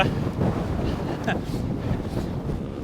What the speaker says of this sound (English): This is a stiff headwind, by the way. It's the same wind from this morning.